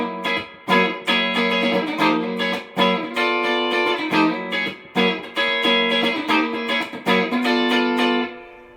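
Charvel DK24 electric guitar in the two single-coil position on a clean, slightly reverbed miked-cabinet tone plays choppy strummed chords in a steady rhythm, loud with no voices, ending on a sustained chord.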